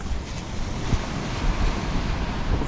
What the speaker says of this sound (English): we're gonna walk down the beach